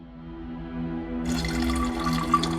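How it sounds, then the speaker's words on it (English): Water runs from a tap into a container in Project Zomboid, starting abruptly partway through as a steady splashing gush under a quiet low background hum, with no voices. "Fill it up with good fresh water here."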